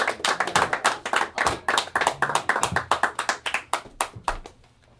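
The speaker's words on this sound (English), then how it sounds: "You guys go ahead and clap it up for Steph" An open mic crowd claps for performer Steph Ginsburg, with distinct, sharp handclaps in a quick irregular rhythm, close and loud, fading out at the end.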